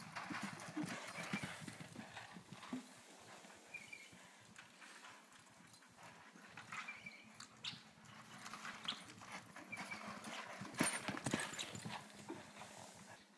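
Hooves of older horses clip-clop steadily through a breaking session, irregular and close, with occasional dog barks and snorts mixed in and a noisy outdoor background.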